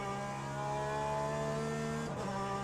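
A racing car engine in a racing video game holds a steady buzzing drone, then a quick gear change briefly drops the pitch before it settles again.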